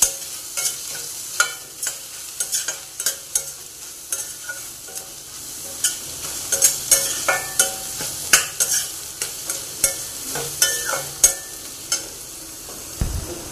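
Browned onions with a little turmeric sizzle in a pan while a spoon scrapes and stirs them in frequent, irregular close strokes over the constant frying hiss.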